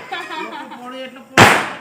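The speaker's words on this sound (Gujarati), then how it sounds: "આ જો કીડી બોમ્બ નો બોમ્બ કહેવાય." A small ant bomb firecracker goes off on a road during Diwali, a single sharp, loud bang near the end that follows people talking.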